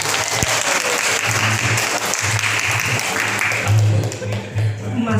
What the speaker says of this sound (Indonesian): Untuk Bapak asli Nuryadin, tepuk tangan.